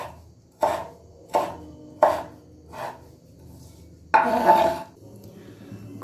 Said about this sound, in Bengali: ধনেপাতাও নিয়েছি এখানে, এটা তো জানোই ঝিরিঝিরি করে কেটে দিতে হবে।